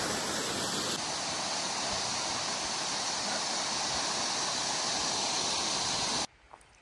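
River water near Ebro Falls in New South Wales, Australia, rushes in a dense, constant roar that stays loud and even until it cuts off abruptly near the end.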